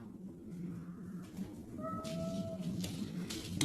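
A domestic cat meows a couple of times indoors, short tonal cries that sit over low background noise with faint talk nearby.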